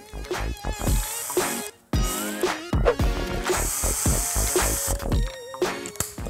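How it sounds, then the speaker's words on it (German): A cordless drill bores holes in a small wooden toy ship, with bursts of high motor whine and bit chatter, a short pause midway, then more drilling. Loud and close, with no talk. "Dann schraubt ihr das in euren Akkuschrauber rein."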